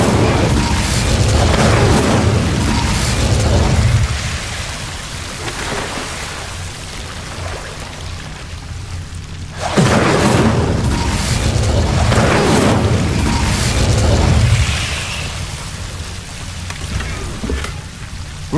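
Incendio fire spells blast in Hogwarts Legacy, two loud whooshing bursts of crackling, sizzling flame, each lasting several seconds with a quieter fiery hiss between them.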